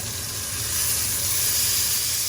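A herb-crusted rack of lamb browns in a hot pan, giving a steady, dense sizzle and hiss that holds fairly loud throughout with no talking.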